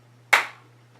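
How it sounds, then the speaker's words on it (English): A single sharp hand clap, close and crisp, standing alone against near silence with a faint low hum. "Why'd you clap?"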